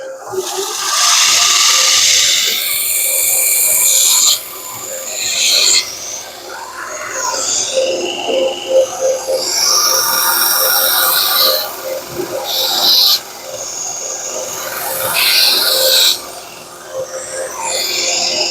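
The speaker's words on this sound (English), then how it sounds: "I'm going to grind that off" Hatsukokuro Kurogane bunka knife blade being reground on a grinder, loud sustained hissing grinding passes broken by short pauses, close up and without talking.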